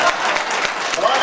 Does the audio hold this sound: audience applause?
yes